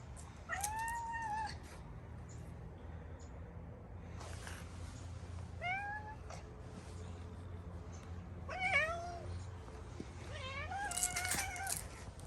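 Neighbor's cat meowing outdoors, several rising-and-falling meows in separate bursts over a low steady background hum, fairly faint and without talk.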